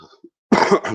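A single sharp cough bursts out close to the listener after a brief murmur, loud and short.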